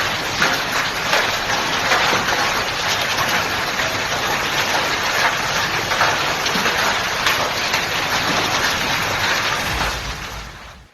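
Large hailstones fall during a storm, making a loud, dense, continuous clatter and hiss that holds steady and then fades at the very end.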